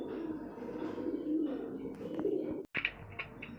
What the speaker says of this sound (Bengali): এই এক জোড়া পায়রা আছে দেখুন বুলু কোটার খুবই সুন্দর